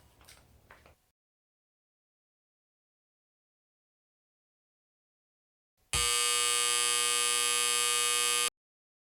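An alarm goes off abruptly as a loud, steady electronic buzz that holds for about two and a half seconds after a long silence, with a brief noise just before.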